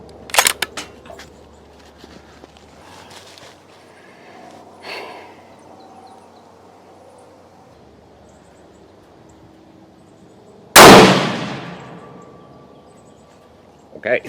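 A single rifle shot, the second of a series, cracks out loud and close, then decays quickly into an outdoor setting after long quiet stretches with faint handling noise.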